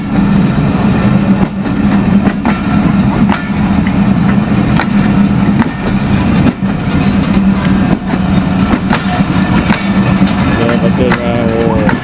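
Coaches of the Mehran Express roll past close by, a steady loud rumble with regular clicks of wheels over rail joints, while a voice talks over the passing train.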